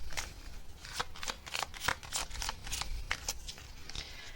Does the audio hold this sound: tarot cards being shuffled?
yes